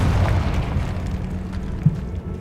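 In Hogwarts Legacy, a Confringo blasting spell detonates as a deep, sustained boom, with rumbling low energy throughout and a brief sharper thump near the end.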